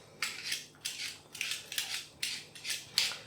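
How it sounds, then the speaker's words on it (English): An apple being peeled with a knife or peeler for apple pie, giving six rhythmic scraping strokes about half a second apart, close and fairly quiet, with no talking. "And peel the apple."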